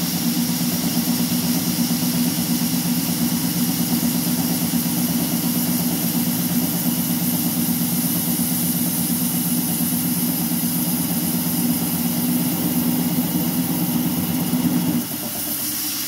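An MR-1 gantry CNC mill cuts aluminum with a small end mill, barely interpolating a 140-thousandths hole: a steady, continuous machine drone with a constant hum, close and unbroken, dropping off near the end.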